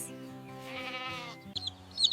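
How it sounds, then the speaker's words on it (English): A goat bleats in a single wavering, nasal call lasting about a second, close and clear, followed by a few faint rustles and clicks. "A goat is a friendly farm animal that eats plants and can climb on"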